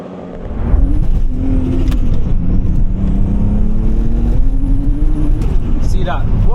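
A 530hp big-turbo BMW sleeper accelerates hard in third gear, its engine droning loud and steady from inside the cabin with a rising pitch and road noise underneath.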